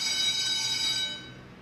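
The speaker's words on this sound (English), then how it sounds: "I'm gonna pause for the bell." A school bell rings with a bright, sustained electric tone that holds steady and then fades out over a second or two, heard alone without any talking.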